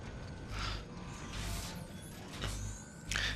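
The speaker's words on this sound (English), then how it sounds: "Unlock the exit door." An exit door unlocks in the video game War for Cybertron, with layered mechanical creaks, ratcheting clicks and whirring gears over a constant low hum, ending in a louder clank.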